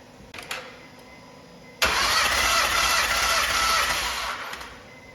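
A Honda Pilot with a cylinder 1 misfire (code P0301) cranks and fires, a few faint clicks giving way to a sudden loud, steady engine roar that holds close for the remaining seconds.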